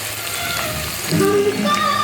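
Noodles fry in a pan with egg, cauliflower and mixed vegetables, giving a close, steady crackling sizzle with some scraping as the ingredients are stirred together.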